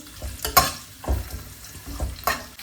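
Onions and a broken dry red chilli fry in a pan, with a handful of short bursts of sizzle and scraping stirs spaced irregularly, close and moderately loud with no talk.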